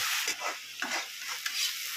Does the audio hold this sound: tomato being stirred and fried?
yes